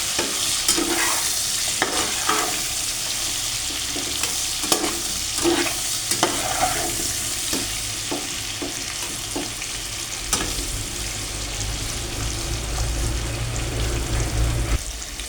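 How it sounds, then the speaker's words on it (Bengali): Potatoes seasoned with turmeric and salt are stirred and fried in a pan for a hilsa fish curry, giving a steady sizzle broken by repeated scraping stirs throughout, with no talking. "মিক্স করে আলুটাকে ভালোভাবে ভেজে নেব।"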